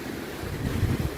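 Water of the Yanuncay River in a park in Cuenca, Ecuador rushes steadily in a broad, noisy wash, close and fairly loud and blended with wind buffeting the microphone, with no talk.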